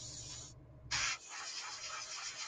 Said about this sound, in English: I'm spraying in behind the spider now of the steering wheel